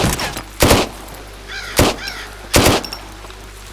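Gunfire in the survival shooter video game ZERO Sievert, three sharp loud shots spaced about a second apart, with faint fluttering game effects between them and no speech.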